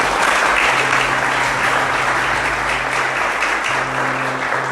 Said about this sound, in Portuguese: Aplaude Nossa Senhora, cara.